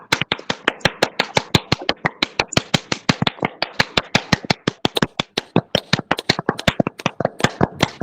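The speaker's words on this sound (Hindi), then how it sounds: "स्पीड से ताली बजाते हो मैं देख रहा हूँ" Quick, sharp hand claps at a yoga session, a rapid regular train of crisp close-up claps at a fast steady tempo, loud and alone without talk.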